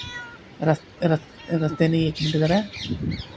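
A black cat met on a roadside meows several times in quick, drawn-out calls, loud and close, while a person speaks briefly.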